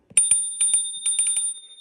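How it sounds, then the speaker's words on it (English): Bright metallic dings from the improved bell on an Inmotion S1F electric scooter, about nine quick close strikes in a loose rhythm with a ringing tone sustained under them. "This scooter also comes with a more improved bell."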